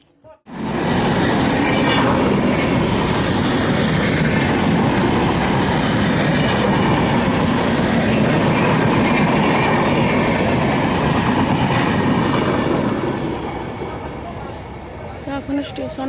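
A train at a railway station rumbles loudly and continuously, with clattering wheel and car noise, fading slightly toward the end.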